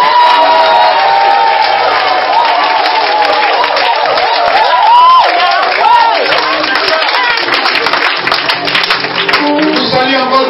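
A church congregation breaks into loud cheering, whooping and applause, a sustained crowd roar with shouts and clapping filling the room.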